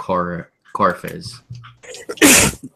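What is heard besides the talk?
sneeze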